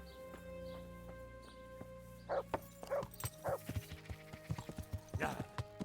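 Dog barking in the Kingdom Come: Deliverance video game, a run of short sharp barks starting midway and repeating in an irregular rhythm over a steady ambient game background, fairly close and moderately loud.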